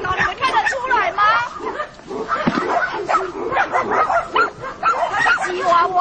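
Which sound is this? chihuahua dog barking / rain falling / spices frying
chihuahua dog barking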